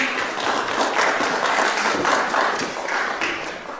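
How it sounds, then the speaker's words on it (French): An audience at a gathering claps for the women present, a dense, sustained round of applause that swells and holds, fairly close, then eases slightly toward the end. "on va les applaudir"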